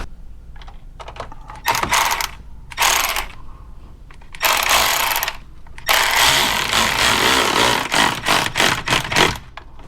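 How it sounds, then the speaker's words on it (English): A coarse-threaded screw is driven into plastic while replacing a Club Car DS golf cart motor controller, heard as loud close bursts of grinding, ratcheting driver noise broken by short pauses. "this is a coarse threaded screw screwing into plastic"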